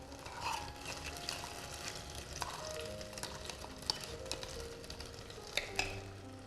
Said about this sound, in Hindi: और अब हमने इन मसालों को अच्छे से भून लेना है 4 से 5 मिनट